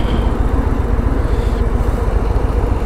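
A Harley-Davidson Low Rider ST motorcycle cruises on a four-lane highway, its engine a steady, dense low rumble with continuous road and wind noise and no talking.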